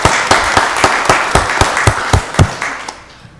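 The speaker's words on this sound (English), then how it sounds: "let's give all of our volunteers, our community as a whole, another round of applause." A round of applause at a county board of commissioners meeting, with steady, dense clapping from a roomful of people that holds loud for about two and a half seconds, then trails away.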